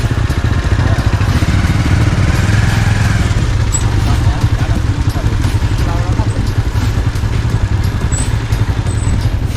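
A motorcycle rumbles along steadily and loudly close by for several seconds, its engine drone continuous, with people talking over it.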